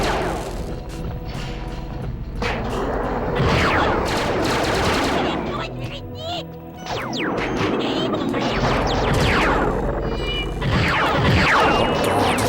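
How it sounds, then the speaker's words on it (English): Explosive-shell gunfire in the Perfect Dark video game, rapid loud bursts of shots and blasts crashing in a dense, continuous barrage with brief lulls, with game voices under the gunfire. "The explosive shells do more damage, but there is a problem with using them."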